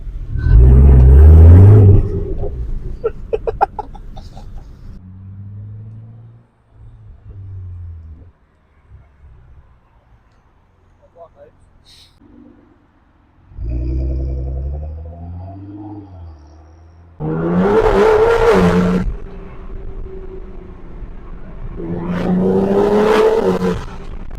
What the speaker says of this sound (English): Don't a tunnel just make every single car sound 10 times better?